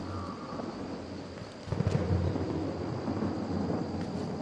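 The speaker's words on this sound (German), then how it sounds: "Oh, Gewitter." Thunder from a storm in the horror game Outlast, a low deep rumble that swells and rolls on steadily beneath a dark ambient drone, with no voices.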